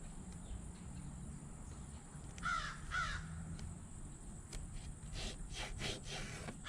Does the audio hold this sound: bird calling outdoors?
yes